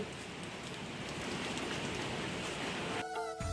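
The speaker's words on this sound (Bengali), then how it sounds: "বাইরে তো বৃষ্টি পড়ছে" Steady rain falls outside with a dense, even hiss at a moderate distance. The hiss is cut by a short muffled break near the end.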